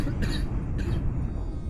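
A person coughs twice in quick succession, short harsh bursts close to the microphone over a low rumbling background.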